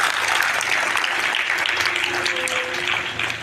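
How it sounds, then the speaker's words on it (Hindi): Children clapping together at a school assembly held to form a student council, a dense, loud, steady round of applause that carries on throughout with faint voices underneath. "एक बार इसके लिए सभी लोग ठीक से ताली बजाएंगे।"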